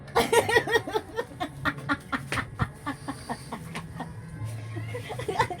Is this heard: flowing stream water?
no